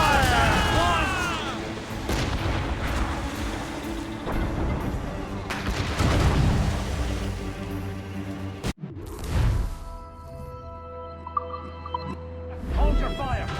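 Ship cannons firing in a naval battle in Assassin's Creed Rogue, heavy booming blasts repeating over wind, creaking and music, with crew members shouting orders between the shots.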